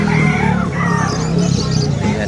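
A rooster crows amid a busy, noisy pet market, with people talking close by, the crowing short and prominent over the chatter.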